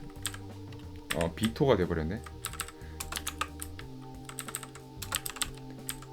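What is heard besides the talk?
mechanical keyboard typing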